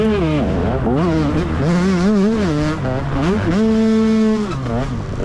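Racing motorcycle in an Open B championship race, its engine loud and close, climbing and dropping in pitch through repeated gear changes and throttle blips, then holding a steady high whine.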